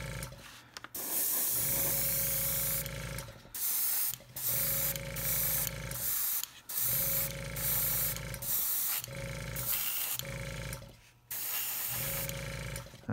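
An airbrush fed by a table-mounted compressor sprays varnish onto a miniature in long, loud, steady hissing bursts separated by brief pauses, with the machine's hum underneath.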